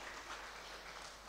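A church congregation applauding during a Christmas Eve service, a dense, even wash of clapping from many hands, faint and distant, with no distinct individual claps.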